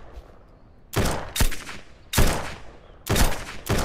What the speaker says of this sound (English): No, they're not shooting at me.